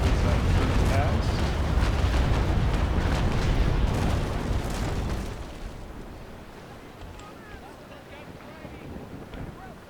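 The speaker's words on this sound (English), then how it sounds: "Not gonna steady up, just gonna give him sneaky broadside as I turn past." Naval warship cannons in the game Naval Action fire a broadside from a large ship of the line, a dense, rolling roar of booms for about five seconds that fades into wind and sea noise, with someone talking over it.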